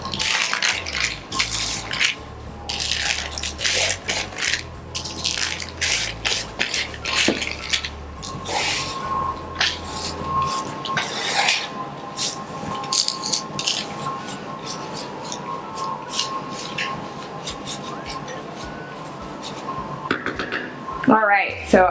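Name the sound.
granola baking pans being handled and rotated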